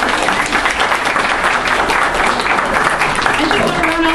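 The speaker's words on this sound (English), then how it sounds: "Have an applaud right here." Audience applause at a science-fiction convention costume contest: a dense burst of clapping from a crowd, steady and fairly loud, with a voice emerging as it tapers at the end.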